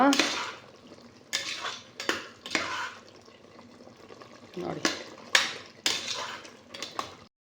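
Onion and salt are stirred with a spoon in a pot of boiling water for chickpea pulao, giving a few sharp metallic scrapes and clinks against the pot in separate bursts over a low bubbling background.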